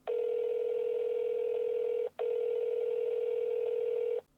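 Telephone ringing in a Roblox horror game: two long, loud, steady electronic ring tones with a brief gap between them, clean and alone.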